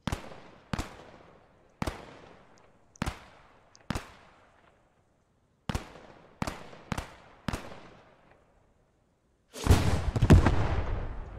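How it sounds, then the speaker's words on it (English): A cannon fires high-explosive rounds in the World War II shooter game Post Scriptum, each blast a sharp, loud report with a fading tail, about ten shots at irregular intervals before a louder, rumbling burst of fire near the end. "Shooting back with hopefully HE rounds on that cannon."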